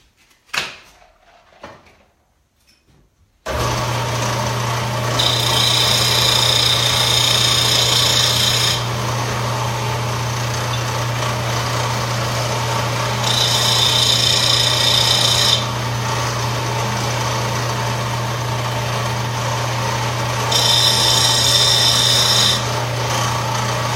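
A power tool runs continuously with a steady electric whine, loud and close, while a higher grinding rasp comes and goes in three long bursts as it works on a diecast model truck.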